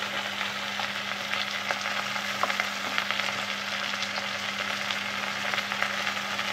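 Eggplant frying in oil in a pan with mustard and poppy seed paste, a soft continuous sizzle with faint, scattered crackles and light stirring scrapes at a steady low level throughout.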